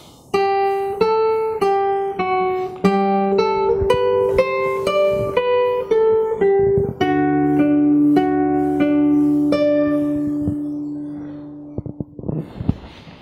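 Fingerstyle acoustic guitar plays a phrase from a piece, a steady run of plucked notes over sustained bass strings, clear and close for about twelve seconds before ringing out.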